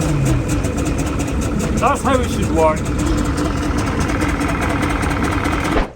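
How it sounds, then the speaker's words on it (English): A boat engine on a Scottish island launch turns over and settles into a steady, loud idle that runs through the whole stretch, with a person speaking briefly over it. "Talking about chaos, let's start the engines."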